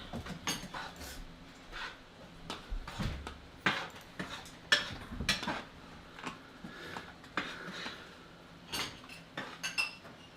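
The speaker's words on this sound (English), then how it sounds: "I'm getting my carrots all glazed. I'm getting it all stirred around." Glazed carrots stirred in a pan with brown sugar and margarine make irregular clinks and scrapes of a utensil against the cookware, close and moderately loud, repeating throughout.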